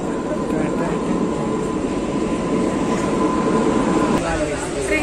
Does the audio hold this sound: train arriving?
yes